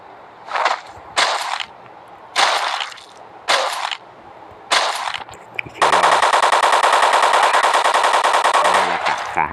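Video game gunfire while shooting zombies in Flat Zombie: several loud separate bursts of shots, then a long unbroken rapid machine-gun stream, close and dominant with no talking.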